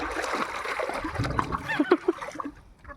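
Water splashes as a child swims in a pool, kicking and pushing the water with the hands, giving a few short, irregular splashes and gurgles at close range over faint background noise.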